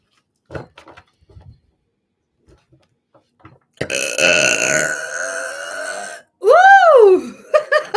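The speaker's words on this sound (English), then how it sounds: "Spirit makes me burp for anyone who's new here." A person lets out a long, loud belch lasting a couple of seconds, followed by a second rising-and-falling burp, after quiet clicks and small mouth sounds.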